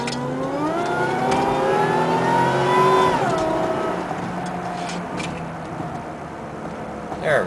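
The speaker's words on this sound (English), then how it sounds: "There's a car passing." A car passes nearby with a rising, then falling engine tone that peaks around the middle and fades off, heard from inside a 1998 Oldsmobile LSS Supercharged.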